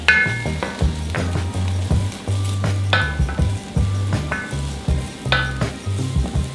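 Diced shallot sizzles in hot olive oil in a pan, a steady crackling fry punctuated by regular scrapes and knocks of a utensil stirring.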